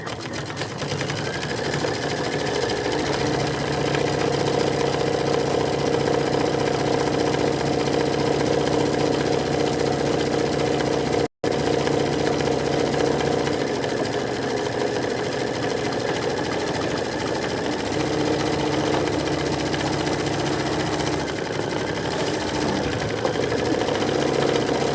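An embroidery machine stitches out a needlebook design with a steady, loud, continuous mechanical whir and rapid needle chatter that runs unbroken apart from one momentary cut, with no talking.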